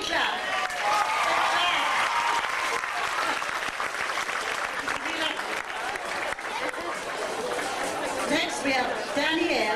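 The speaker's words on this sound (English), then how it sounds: "give him a big clap" Audience at a 1994 Achill fashion show clapping continuously, a full, steady wash of applause with crowd chatter and voices mixed in throughout.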